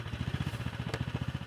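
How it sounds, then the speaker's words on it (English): A Polaris youth snowmobile engine runs after being started with the pull rope, a fast, even chugging beat at close range with one brief clatter partway through, no voices. "When you pull the starter rope, the engine will start."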